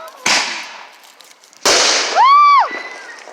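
Fireworks set off by a group on a road at night: two sharp bursts with crackling tails, then a rising and falling whistling firework, fairly close and loud, with people talking and cheering in the background.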